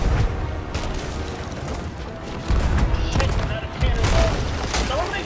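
Ship cannons firing during a naval battle in the pirate game Sea of Thieves, a loud continuous barrage of booms and crackling impacts with overlapping blasts, while players shout and talk over the noise.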